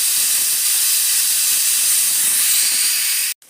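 Mustard seeds, cumin and onions sizzle in hot oil as a tempering for brinjal and toor dal, a loud, steady hiss filling the whole stretch before cutting off abruptly at the end.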